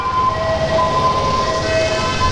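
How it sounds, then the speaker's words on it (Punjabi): An ambulance siren sounds as it moves through a traffic jam on Ferozepur Road in Ludhiana near the Verka milk plant, a loud, steady wailing tone over continuous road rumble. "ਐਂਬੂਲੈਂਸ ਜਿਹੜੀ ਆ ਤੁਸੀਂ ਦੇਖ ਸਕਦੇ ਹੋ ਕਿ ਸਾਇਰਨ ਕਰਦੀ ਹੋਈ ਜਾ ਰਹੀ ਹੈ"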